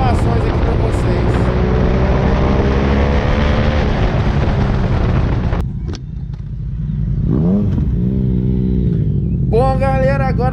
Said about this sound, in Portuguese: agora nós vamos descer essa moto lá embaixo